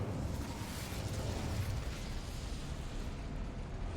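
A fire spell cast in the Hogwarts Legacy video game gives a steady, loud roaring whoosh. The burst of flame sits in the low end and sustains for about four seconds with no talk.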